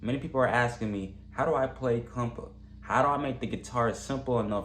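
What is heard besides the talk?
None of the usual background noises is heard.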